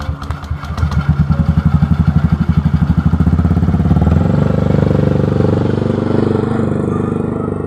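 A motorcycle engine starting up close by, its rapid pulsing putter steadying into a loud, continuous run that holds to the end.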